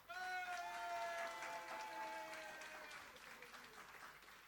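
Audience applause: a fairly faint, steady patter of clapping that tapers slightly toward the end, with a sustained musical tone gliding underneath at the start.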